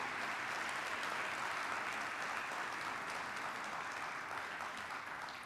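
Church congregation applauding strongly during a family worship service, a continuous wash of many hands clapping at moderate distance, fairly quiet and without speech.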